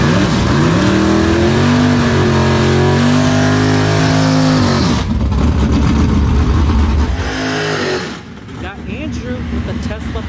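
A Pontiac Firebird WS6 Transcam on big tires revs loudly at a drag strip, its engine note climbing and holding before a sharper, rougher roar takes over and eases near the end, with voices under it.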